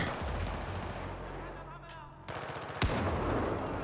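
Rapid automatic gunfire in the shooter game Battlefield 4, a dense continuous stream of shots with a brief lull and one sharp louder crack near the end, over a busy battlefield backdrop.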